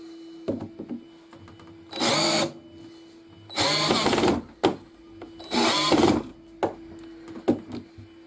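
Three bursts of a Parkside PKGA 20-LI C2 cordless drill driving a screw in first gear, whirring at high speed, each about half a second to a second, separated by short clicks and pauses, close by.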